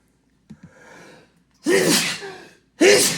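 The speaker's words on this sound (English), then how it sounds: "I'm gonna sneeze." A person sneezes loudly and close by, with a sharp inhaled gasp, then an explosive burst, followed by a second burst a moment later.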